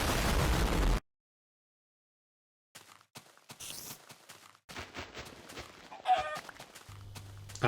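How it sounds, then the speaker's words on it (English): A Minecraft chicken clucks in short bursts among game sound effects, with a second of silence near the start. "After a horrible fail at killing a chicken"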